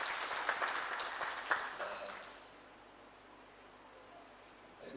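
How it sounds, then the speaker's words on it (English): Conference audience clapping in welcome, a moderate patter of many hands that fades over a couple of seconds into quiet room tone. "please join me in a warm round of applause"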